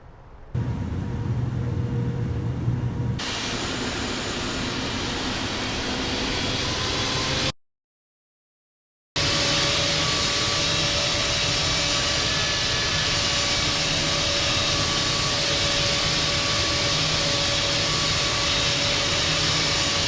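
A simulated American Airlines Boeing 777-200 rolls for takeoff on runway 25 right at LAX in Infinite Flight, a steady roaring jet engine drone with a tonal whine, broken once by a brief gap of silence.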